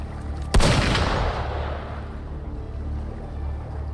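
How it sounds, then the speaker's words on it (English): A single sharp gunshot from the video game Wuthering Waves cracks loudly, then a long booming tail with a low rumble fades away under a steady background drone. "Gunfire! We've got intruders."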